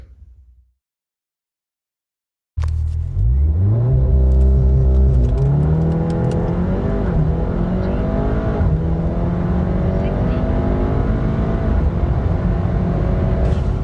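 After a brief silence, a Stage 1 tuned Volkswagen Golf R Mk7.5 engine roars to life and accelerates hard from 0 to 60, pitch climbing through several gear shifts, loud and close for over ten seconds.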